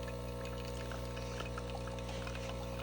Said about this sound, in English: pressure builds up and it starts dripping coffee